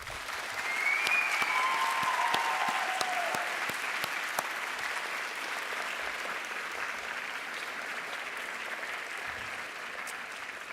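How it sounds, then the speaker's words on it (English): A graduation ceremony audience gives sustained applause, a broad, even wash of clapping that swells early and then holds steady, with a few faint whistles over it. "I ask our graduating students to give a rousing round of applause for their support."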